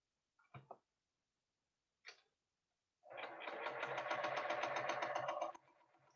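A sewing machine stitches quilt squares in a steady fast whirring run of needle strokes lasting about two and a half seconds, close and clear, preceded by a few soft clicks and handling sounds.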